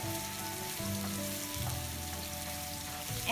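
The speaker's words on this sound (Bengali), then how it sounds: "সবজিগুলো একটু ভাজা ভাজা হবে" Vegetables frying in a pan with tomato ketchup for vegetable macaroni, a steady dense sizzle that carries through alone with no talk.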